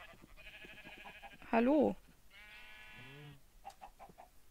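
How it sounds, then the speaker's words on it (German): A Minecraft sheep gives a short, loud wavering bleat in the middle, with someone speaking German just before and faint game sounds around it. "Und hier mäht doch irgendwo was."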